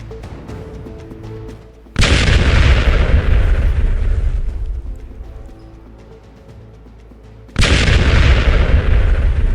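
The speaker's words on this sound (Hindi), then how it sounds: "सुनिए जरा एक बार फिर से ये धमाका।" A loud, sudden missile explosion on a building booms and then rumbles away, followed by a second powerful blast, both heavy and close.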